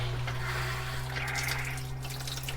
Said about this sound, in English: so I have a little valve here that turns the water on.